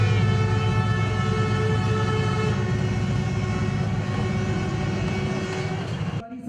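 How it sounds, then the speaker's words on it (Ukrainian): A loud, sustained horn blast with steady harmonic tones holds for about six seconds, then cuts off abruptly near the end. "Його сповістив гучний гудок потяга."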